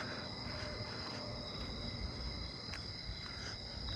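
Narrow-winged tree crickets chirp in a steady, continuous high-pitched trill outdoors in a neighbourhood at night, faint and distant over a low background rumble, with no voices.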